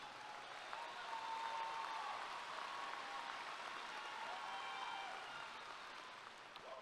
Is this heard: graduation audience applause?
yes